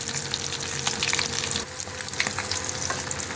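Pakoras deep frying in hot oil, with a dense crackling bubble, sharp pops and some stirring or scraping. The sound is close and moderately loud, with no talk.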